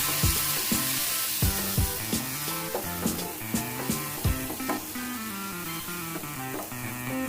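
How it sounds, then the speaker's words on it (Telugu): Tomatoes and green chillies fry in a pan, giving a steady sizzle. Background music with clear tonal notes partly masks it. "టమోటాలు పచ్చిమిర్చి బాగా ఫ్రై అయిపోయినాయి."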